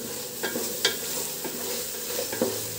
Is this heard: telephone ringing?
no